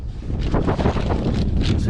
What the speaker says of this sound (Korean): 여기서 바람이 상당히 많이 불고 있기 때문에